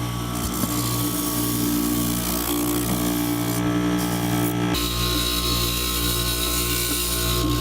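A power sander softens a corner in a workshop, giving a continuous close motor drone with a dense buzzing hum and a slight shift in tone partway through. It runs steadily with no talk.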